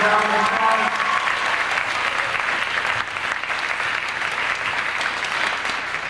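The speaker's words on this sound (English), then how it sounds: "Would y'all give them a big round of applause?" A room full of people applauds guests from Collier Park Retirement Community seated on the front row at a spring performance event, steady dense clapping holding loud for about six seconds, with faint murmuring and musical tones early on.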